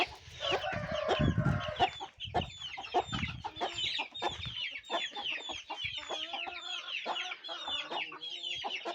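Chickens, including Arab breed hens, clucking busily at close range, many overlapping calls with a rooster crow mixed in, continuous farmyard chatter.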